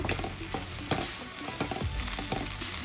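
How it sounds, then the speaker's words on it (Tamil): A handful of small onions frying in hot oil for a prawn gravy, giving a dense, continuous loud sizzle with crackling bursts and some stirring; no voices. "இதில் வந்து நான் சின்ன வெங்காயம் சேர்க்குறேன், ஒரு கையளவு"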